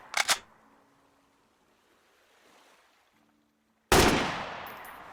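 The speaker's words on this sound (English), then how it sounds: "I think that that's a turret." Turret fire in the survival game Sunkenland: a sharp blast at the start, a quiet stretch, then a loud heavy shot that rings and decays, no talk.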